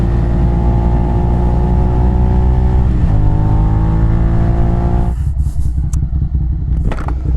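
Suzuki SV650 motorcycle engine, loud and close, idling and revving steadily for about five seconds before the throttle drops off into rougher, choppier running with a brief rev near the end.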